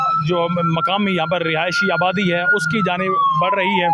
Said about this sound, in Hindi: बाकायदा सायरन भी यहाँ पर आपको आवाज़ सुनाई दे रही होगी